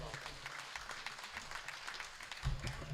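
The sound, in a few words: audience applause at a mushaira poetry gathering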